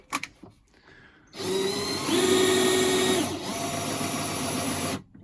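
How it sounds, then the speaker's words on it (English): A few quiet clicks, then a drill press motor whirs on, raising the table with rapids, running steadily for several seconds, its pitch rising briefly midway before switching off. "we're going to use the rapids to bring the table up"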